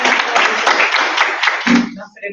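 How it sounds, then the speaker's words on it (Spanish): A live audience at a Spanish-language panel discussion claps loudly and steadily for about two seconds. Scattered voices talk over the clapping before it fades out. "pero primero yo quiero un aplauso para Silvia"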